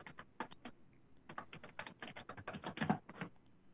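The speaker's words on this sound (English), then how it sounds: "That sounds Sherry typing away on the keyboard over there." Fingers type on a computer keyboard in quick irregular bursts of close, crisp key taps with brief pauses between runs, alone and fairly quiet.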